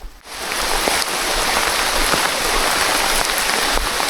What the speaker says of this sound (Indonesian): Hujannya makin deras ternyata.